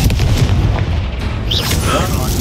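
Confringo fire spell blasts in Hogwarts Legacy, heavy booming explosions and bursts layered with continuous battle noise and a spoken voice, loud and close throughout.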